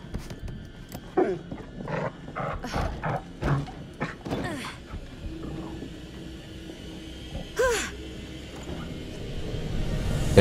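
A dog in the horror video game The Devil in Me growls and snarls in rough bursts, some loud and close, with quieter rumbling between them.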